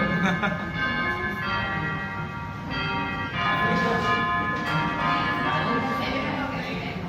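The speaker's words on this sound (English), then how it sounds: "The judge had to ring the bell." A judge at a Toastmasters club meeting rings a bell several times, each bright metallic strike ringing out clearly over a person talking.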